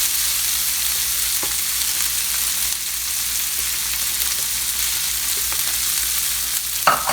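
Rice and shrimp fry in a skillet with a steady, dense sizzle throughout, broken by a few soft stirring scrapes and a brief clatter near the end.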